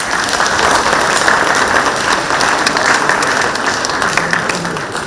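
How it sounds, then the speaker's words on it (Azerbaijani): A ceremony audience gives sustained, steady applause for a gold medal presentation, a dense even wash of clapping throughout, fairly loud, with a faint murmur of voices beneath. "Gəlin alqışlayalım."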